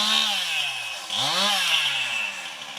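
A chainsaw runs loudly nearby, its engine buzzing steadily, dipping briefly and then revving back up.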